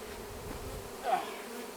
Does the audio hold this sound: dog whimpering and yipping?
no